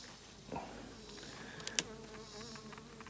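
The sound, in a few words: honeybees buzzing in hive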